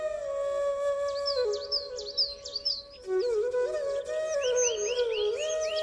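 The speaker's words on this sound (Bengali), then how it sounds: "পাখির ডাক, শান্ত ভোরের আবহ।" Birds at dawn in a cartoon village chirp and whistle in quick repeated bursts over a steady, soft tonal background, with no voices.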